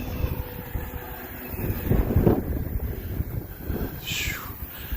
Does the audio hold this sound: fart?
no